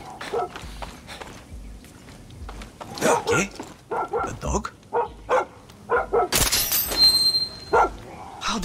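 Dog barking in Far Cry 6: several short, sharp barks at moderate loudness mixed in with footsteps and scattered game effects, with people talking over and between the barks.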